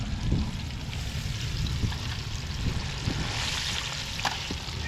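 Carp pieces fry in hot grease with a steady, dense sizzle and occasional soft pops, continuous and fairly close, with no talking over it.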